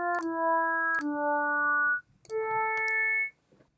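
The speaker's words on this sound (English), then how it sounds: "When I play it at a different pitch, your ears start to make those pitches coalesce into more of a timbre than a sequence of individual sine waves." Additive synthesizer tones built from stacked harmonic sine waves, three sustained pure notes at shifting pitches, each about a second long, clean and alone with brief gaps between.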